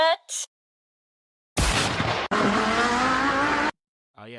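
Engine roar of racing boats in a duck-themed boat race video game, sounding like cars: a loud, dense burst with a sharp break partway through, then a steady sustained drone, framed by short game chimes before and after.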